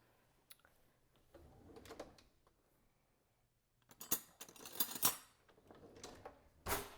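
Metal spoons and utensils clink and rattle in a kitchen drawer or on a counter, a handful of sharp, fairly close clatters scattered between quieter moments.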